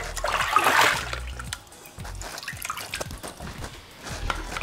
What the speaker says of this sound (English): And I'll give this one a rinse as well.